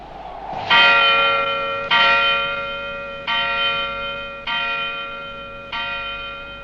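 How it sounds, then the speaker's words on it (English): A village church bell rings from its tower in five slow, evenly spaced strikes, each loud and ringing on before fading into the next. "I wouldn't have rang that bell though"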